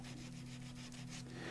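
Sanding discs rub across a small craft card in quick, even back-and-forth strokes, soft and close with no talking.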